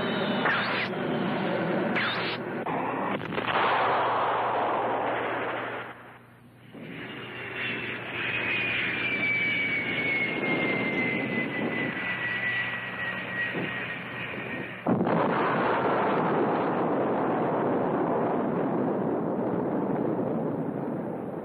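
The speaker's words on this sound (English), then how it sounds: "A nuclear bomb could cause a blast like that." Jet fighter aircraft roar steadily overhead in a sci-fi monster film attack scene (Gammera the Invincible), then a sudden loud broadband explosion blast bursts in near the end.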